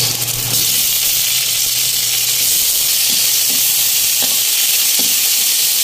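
Garlic, onion and tomato sauté in a pan with a steady loud sizzle and hiss, broken by a few soft stirring scrapes and clicks, with no voices.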